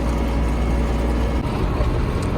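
Steady, close vehicle engine drone while driving home after spraying sunflower fields, loud and continuous with road rumble.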